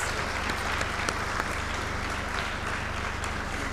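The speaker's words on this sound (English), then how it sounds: "Ladies and gentlemen, a huge round of applause," An audience at a ladies' organization event at Sultanpur village claps steadily, a continuous wash of applause under a low constant hum.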